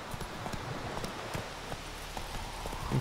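Roach the horse clip-clops along in The Witcher 3, a steady walking rhythm of hoof knocks over a soft, rustling outdoor ambience, moderately close and with no voices.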